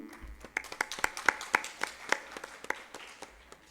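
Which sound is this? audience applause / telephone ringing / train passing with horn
audience applause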